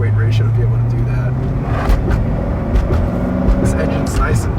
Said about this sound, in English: This engine's nice and torquey.